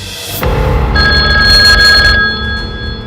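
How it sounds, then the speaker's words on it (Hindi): A telephone bell rings loudly and steadily for a couple of seconds, a bright sustained trill, then stops. "तभी फोन की घंटी बजी।"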